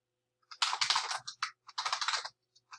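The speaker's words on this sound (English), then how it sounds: "what you want to do next is type your name" Rapid bursts of keystrokes on a computer keyboard as a name is typed into a Google Docs page, close and clear, in two main clusters with a few scattered taps after.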